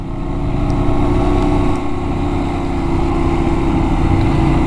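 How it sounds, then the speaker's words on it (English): A Benelli 752S motorcycle engine runs at a steady, loud drone with a strong low rumble, holding an even pitch throughout with only slight variation. "It's a nice motor, but sounds fantastic."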